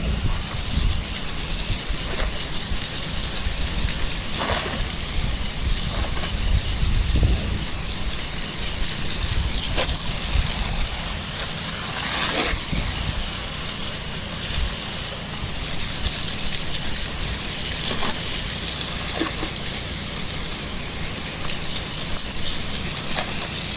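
Water spray rinsing down a stucco house wall during a soft wash, a steady broadband hiss and gush that runs continuously and fairly close, with occasional rattling bursts and no talk.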